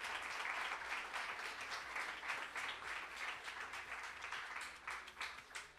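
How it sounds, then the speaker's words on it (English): A large audience at a summer company showcase gives sustained applause for mentors, dense clapping that swells and dips slightly, heard alone at a fair distance. "just a nice round of applause for all the people that make this happen"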